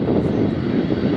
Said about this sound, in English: spoilers are up, the thrust reversers are engaged